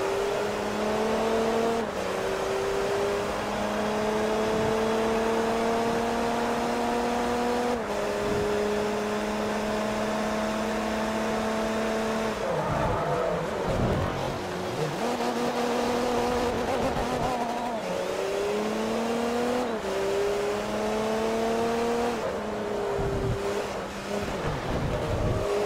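An Audi TDI race car in Forza Motorsport 3 drones loudly and continuously, its engine pitch climbing through each gear and dropping sharply at every shift across a long run of racing.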